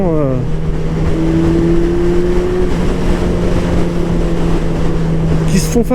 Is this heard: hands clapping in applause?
no